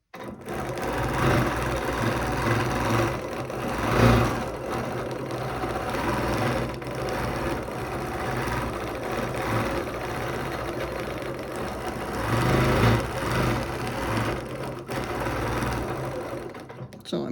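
A sewing machine runs steadily at close range as it stitches a quilt guided along a ruler, with its motor whirring and the needle clattering continuously and rising slightly in places.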